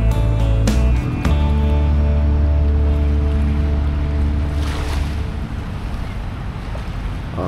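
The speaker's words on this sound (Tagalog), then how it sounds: "Ganda banayad yung ating karagatan ngayon dito." Calm sea waves wash steadily at Manila Bay's Dolomite Beach, with wind noise and a low engine-like hum in the opening seconds.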